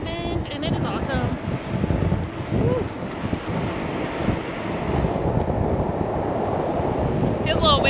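Steady wind noise rushes over the microphone on a tandem bike rolling along pavement during a gravel race, a constant loud buffeting with voices talking faintly underneath.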